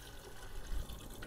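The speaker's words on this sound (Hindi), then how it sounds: "अब इसके अंदर मैं 2 गिलास पानी डालने लगा हूँ" Two glasses of water being poured into a pot of chicken haleem, a faint, short, continuous splashing pour.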